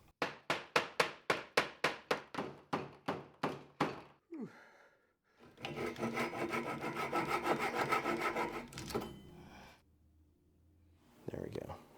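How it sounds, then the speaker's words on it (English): Mahogany is hammered through a DFM dowel plate to form 5/8-inch dowels, a brisk run of about a dozen sharp rhythmic knocks followed by a rasping, grinding scrape of wood. "So I've got mahogany here, got a DFM dowel plate. I'm just gonna make some 5/8-inch dowels."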